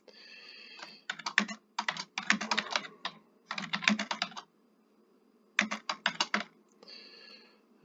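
Router configuration commands typed on a computer keyboard in rapid bursts of close, crisp key clicks separated by short pauses, with no talking.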